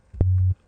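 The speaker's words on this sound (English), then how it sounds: "So now you can hear that the sine wave is actually playing" A synthesized sine wave tone plays from a custom drum rack as a single steady, low sustained note of under half a second, with a short click at its onset, heard alone.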